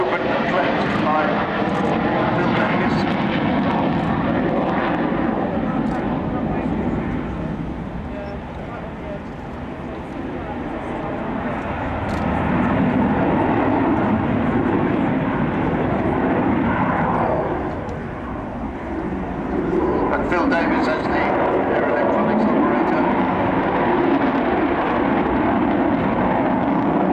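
Avro Vulcan bomber flying at an airshow, a loud sustained roar of jet engines that swells and fades as it passes, with spectators talking over it.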